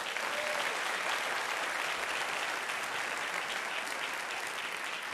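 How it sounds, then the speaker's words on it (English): A large audience at an educator symposium keynote applauds the organizing team in orange shirts, a dense, steady wash of clapping holding evenly loud for the full stretch with no voices over it. "give them a round of applause"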